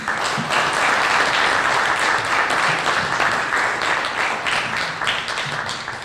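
Audience applause welcoming speaker Vail Horton at an event at the Port of Portland: steady, dense clapping from a crowd, loud and sustained throughout, slowly fading at the end.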